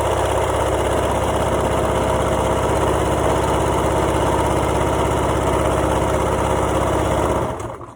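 A sewing machine stitching fabric down runs as a steady, loud motor hum with a fast even needle rhythm, continuing without pause before cutting off abruptly at the end.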